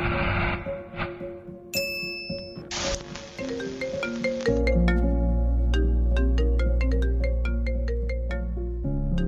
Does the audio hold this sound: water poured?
no